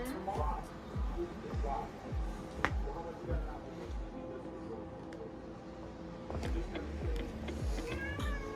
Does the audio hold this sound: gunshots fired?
no